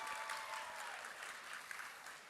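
An audience at a showcase event applauds in a steady, distant wash of many hands clapping, faint and continuous throughout.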